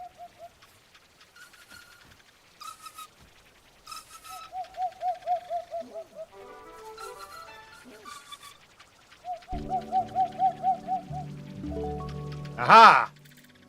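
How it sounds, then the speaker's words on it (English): An owl in the Pretty Bird video game hoots in repeated soft cooing runs, interspersed with other game bird calls and chimes, ending in a brief louder burst. "The owl perches on top of the trees."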